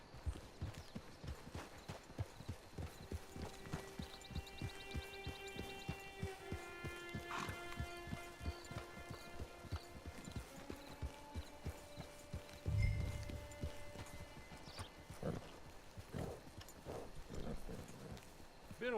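In the video game Red Dead Redemption II, a horse's hooves clip-clop in a steady, even walking rhythm, joined by sustained musical tones, with a thud and a voice briefly talking near the end.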